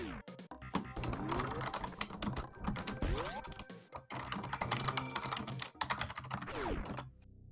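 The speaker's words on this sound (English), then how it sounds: "Enjoy the keyboard ASMR." Computer keyboard typed on rapidly and continuously for several seconds, dense clattering keystrokes with brief pauses, close and fairly quiet, with no talking.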